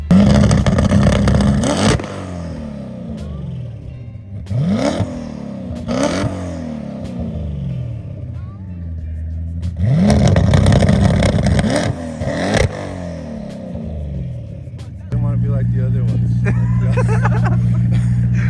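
A twin-turbo 850+ horsepower BMW E92 M3 engine revs hard in repeated bursts, rising and falling sharply with rough crackle, then settles into a steady loud idle drone.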